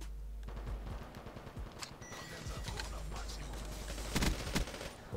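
Rapid bursts of gunfire in Call of Duty: Warzone crackle over a low steady rumble, with clattering shots clustered throughout and a louder volley near the end.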